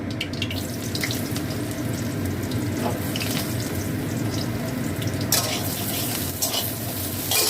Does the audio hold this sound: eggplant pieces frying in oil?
yes